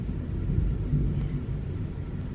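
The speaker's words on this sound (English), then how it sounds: "Did you guys hear that thunder? It's still going." Low, continuous thunder rolls through the background during an indoor vlog, a steady distant rumble without sharp cracks or voices.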